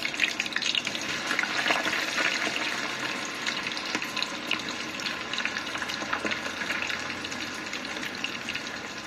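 Potato french fries fry in a pan of oil with a continuous crackling hiss, an even, busy sizzle that holds steady throughout.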